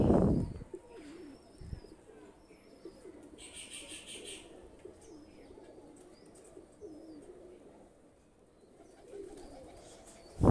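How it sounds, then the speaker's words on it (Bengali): Pakistani high flyer pigeons coo softly and repeatedly, a low, close murmur running under faint background noise with a few brief knocks. "লাস্ট পেয়ার এই দুইটা কবুতার হলো ওয়ান্টেডি কবুতার"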